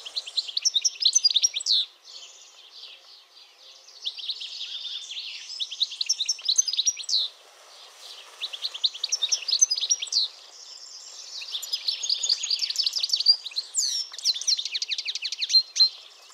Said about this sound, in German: Der Gesang des Stieglitzes ist recht schnell, er besteht aus schnellen Triller und Zwitscherlauten